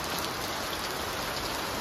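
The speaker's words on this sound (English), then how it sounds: "torrential downpour" Torrential tropical downpour pounds onto water at a Jamaican resort, a dense, loud, unbroken roar of rain hiss and splashing drops with no voices.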